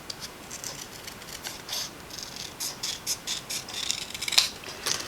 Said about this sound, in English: I'm going to cut straight across.